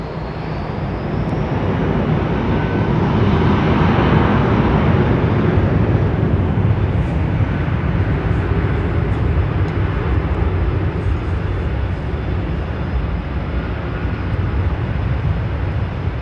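A jet aircraft at London Heathrow Airport roars steadily and loudly for the whole stretch, a broad engine rumble that swells slightly and then eases, heard alone with no voices.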